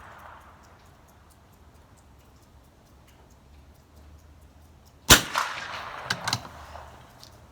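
A single sharp, loud shot from CCI Blazer ammunition rings out after a quiet outdoor stretch, followed by a couple of fainter metallic clicks and bangs.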